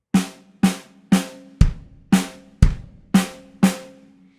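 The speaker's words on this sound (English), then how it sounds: "So if we're doing it that way, again, back to the snare, it would sound like this." Eight sharp snare drum hits in a steady, evenly spaced pattern, with two heavier accented strikes, played alone and close.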